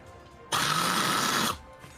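A loud, steady rushing burst of broadband noise, like a harsh spray or blast, lasting about a second against a quiet background; an acid breath attack effect in a Strixhaven tabletop game.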